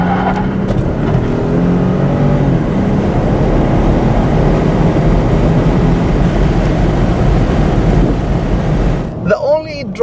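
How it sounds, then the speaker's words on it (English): 2015 Ford Expedition XLT full-size SUV engine pulling hard through a 0-60 run with the windows down, a loud continuous roar with wind rush heard from the cabin, easing off near the end. "Let's try another 0-60 with the windows down so we can hear a little more of the engine."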